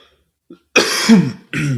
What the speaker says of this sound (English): I got this cough I can't seem to shake